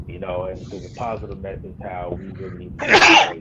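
Someone talks steadily in a hip hop discussion, then someone sneezes once near the end, close and loud, cutting in after the talk.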